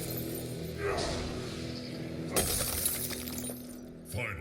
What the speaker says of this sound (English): And then a shatter, that's gonna do it.